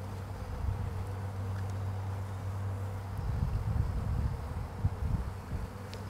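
Honeybees drone steadily around their queen and her attendants, a low, close buzzing hum with soft fluttering swells and no voices.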